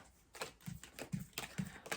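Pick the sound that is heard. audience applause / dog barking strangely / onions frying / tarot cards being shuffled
tarot cards being shuffled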